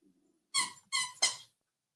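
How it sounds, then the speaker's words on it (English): A squeaky toy squeaks three times in quick succession, sharp high-pitched squeals in the background of a quiet indoor room. "if y'all can hear that squeaky toy in the background"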